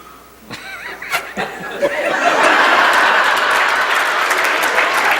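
A crowd bursts into applause at a 2004 Denver speech, clapping swelling from scattered claps into a loud, sustained roar mixed with laughter and chatter.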